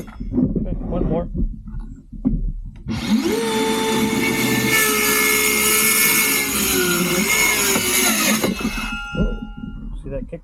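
A power saw cuts through a piece of wood while building an equilateral shape, a loud sustained whine with a steady pitch running for about five seconds, bracketed by someone talking before and after.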